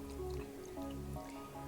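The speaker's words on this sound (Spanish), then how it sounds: "Ahora le vierto el agua" Water poured over a flower and a quartz crystal in a container, a soft steady trickle with gentle drips, close and quiet, with no voices.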